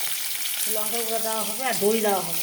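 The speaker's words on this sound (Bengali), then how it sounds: "মাছ ভাজা বসানো হচ্ছে, দেখো মাছ ভাজা হচ্ছে" Katla fish frying in a pan gives a steady background sizzle while a person talks over it throughout.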